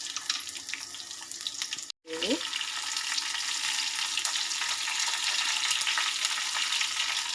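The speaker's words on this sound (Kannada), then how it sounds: "ನಾನು ಬೆಳ್ಳುಳ್ಳಿ ಒಗ್ಗರಣೆ ಮಾಡ್ಕೊಳ್ತೀನಿ ಹಾಗೆ ಜೀರಿಗೆ ಸಾಸಿವೆ ಮತ್ತು ಒಂದೇ ಒಣಮೆಣಸಿನ್ಕಾಯಿ ಹಾಕ್ಕೊಂಡಿದ್ದೀನಿ" Garlic, cumin, mustard seeds and a dried chilli sizzle in hot oil for a tempering, a steady loud crackling hiss broken by a brief cutoff near two seconds, then resuming unbroken to the end.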